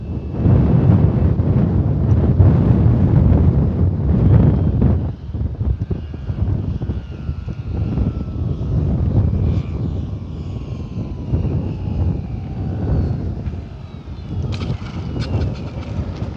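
An E-flite Sportix RC airplane lands into the wind, its electric motor a steady whir against heavy wind buffeting on the microphone throughout, with no talk.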